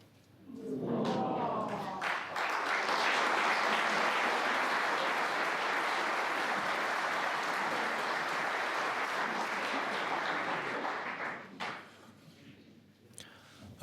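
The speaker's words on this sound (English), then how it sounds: "Applause coming from the other side of the arena." Sustained applause from a snooker arena audience at a World Championship match, a broad steady wash of clapping lasting about ten seconds before tapering off, with no talk over it.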